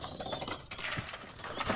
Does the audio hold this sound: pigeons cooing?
yes